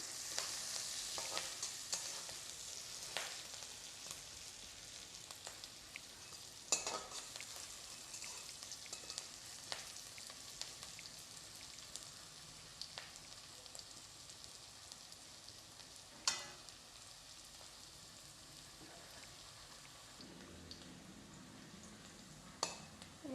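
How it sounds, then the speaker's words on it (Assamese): Onions sizzle quietly in a pan while being fried for a fish curry with tomato and potato, a soft steady crackle with occasional stirring clicks and no talking. "এইখিনি অলপ ৰঙা পৰালৈকে আমি ভাজি ল'ম।"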